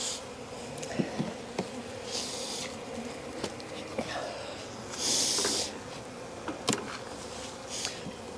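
A steady hum of honey bees buzzing inside a hive, close and continuous, with scattered knocks and rustles and a brief louder hiss partway through.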